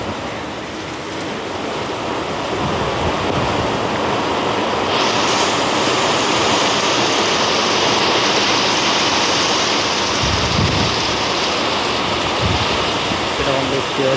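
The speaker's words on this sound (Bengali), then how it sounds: "কেমন বৃষ্টি হচ্ছে দেখো।" Heavy rain falls across a residential colony, a loud unbroken rushing wash like running water that brightens partway through, with a few low thumps near the end and no clear thunder.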